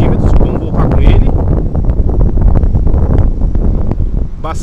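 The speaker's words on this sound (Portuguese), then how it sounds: "Bastante vento, ele está resistindo bem o vento, isso é bom" Strong wind buffeting the microphone during a ZLrc SG906 Pro2 drone flight outdoors, a loud continuous rumbling roar with gusty bursts, alongside someone talking.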